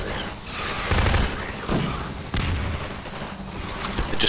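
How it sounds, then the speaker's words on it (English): Grenade blasts set off a chain of landmines in Half-Life 2 Episode 2, a rapid burst of loud explosive booms and crackling detonations close by, with several sharp hits in quick succession. "Just kill half my own landmines with my grenade"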